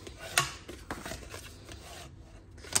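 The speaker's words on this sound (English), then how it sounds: "now the box, we're going to burnish these lines really well" A tool rubs and scrapes along the score lines of a paper treat box, soft, close scratching strokes with a couple of sharper ticks, quiet and without talk.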